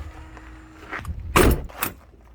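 Solid exterior compartment doors on a Monaco luxury diesel motorhome being handled, giving two close, fairly loud thunks about half a second apart, with quieter handling noise before them.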